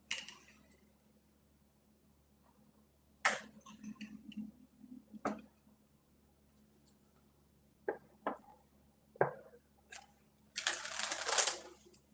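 Tarot cards shuffled by hand in a few short, crisp riffling bursts separated by quiet pauses, with the last burst longest and brightest; faint room hum underneath.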